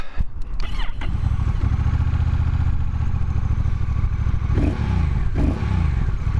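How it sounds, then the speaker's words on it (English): A 2023 Honda CMX 1100 DCT motorcycle engine starts in cold weather after a few clatters and settles into a steady, throbbing idle, fairly close and loud, with a couple of sharp knocks near the end. "So, shall we start it up?"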